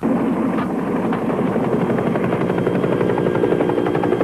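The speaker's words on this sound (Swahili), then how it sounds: "Bona helikopta inazengea katika maeneo yale." A helicopter in a war film thunders steadily and loudly, its rotor chop dense and continuous as it circles close overhead, with no talk over it.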